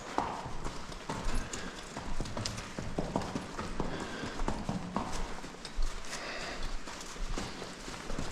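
A gaited horse walks calmly with long strides on a gentle first ride, its hooves making a steady, close clip-clop rhythm that carries through the whole stretch.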